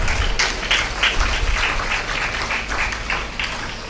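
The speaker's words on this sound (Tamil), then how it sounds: "பெண்கள் கைத்தட்டி அதை ஆமோதிக்கிறார்கள்" Clapping from a women's audience at a Tamil public talk, a sustained, dense patter of many hands at steady loudness with no speech over it.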